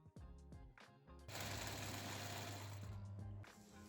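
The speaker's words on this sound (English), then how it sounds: "Now I'm gonna sew the side seam closed." A sewing machine stitches the side seam of a quilt jacket, starting with a few short stuttering bursts, then settling into one steady, loud, close run of about two seconds before slowing and stopping.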